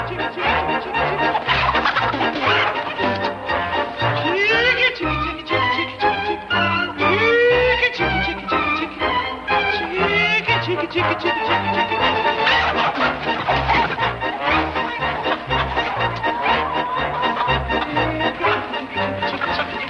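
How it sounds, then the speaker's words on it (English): Chickens cluck and squawk repeatedly over busy background music, the bird calls mixed throughout at moderate loudness. "You want to scare all my chickens off."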